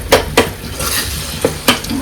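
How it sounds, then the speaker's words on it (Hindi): Tadka tempering for khichdi sizzles and crackles in a hot pan. A steady frying hiss runs throughout, broken by a few sharp metallic clinks of a spoon stirring against the pan. "तो ये बहुत परफेक्ट तड़का लग रहा है।"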